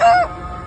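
A person imitates a donkey's bray with one short, loud, strained nasal honk that dies away quickly, followed by quiet room noise.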